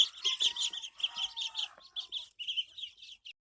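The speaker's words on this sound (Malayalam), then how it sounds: "ഇത് നാടൻ കോഴിന്റെ സെക്ഷനാണ്." Native country chickens clucking in a farm pen, a close, busy run of short rapid clucks and chirps that thin out toward the end and then stop.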